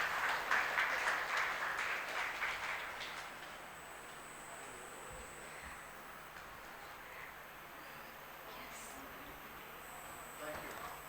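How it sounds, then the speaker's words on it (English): Audience at the Bangalore Business Literature Festival giving a round of applause: a short burst of clapping that fades after about three seconds into quiet room tone. "can we have a huge round of applause for him?"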